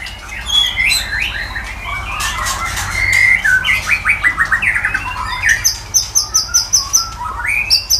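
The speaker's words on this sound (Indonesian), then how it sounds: "Murai batu termahal di dunia mas ya." A white-rumped shama (murai batu) sings close and loud, with varied whistles and chirps, then a rapid series of bright repeated notes.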